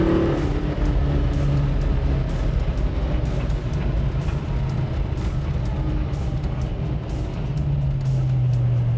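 A 1965 Shelby GT350 engine accelerates hard, a loud, steady low roar that holds throughout with no voices over it.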